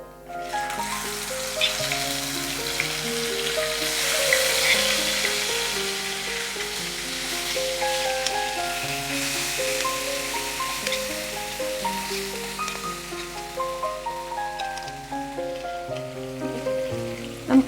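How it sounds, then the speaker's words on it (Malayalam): Prawns shallow fry in coconut oil over a medium flame, a continuous close sizzle and crackle that carries on alone while tonal music plays over it. "നമുക്കിത് മീഡിയം ഫ്ലെയിമിൽ വെച്ചിട്ട് ഷാലോ ഫ്രൈ ചെയ്തെടുക്കാം."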